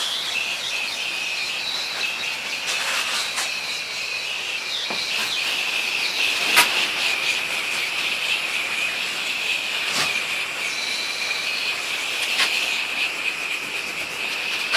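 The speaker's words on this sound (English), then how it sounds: "let's rinse off all this shit in here." A pressure washer sprays a steady, loud hiss as it rinses a roof treated with a weak bleach solution, with the jet's pitch wavering slightly and a few sharp spikes where the stream hits surfaces. No one speaks.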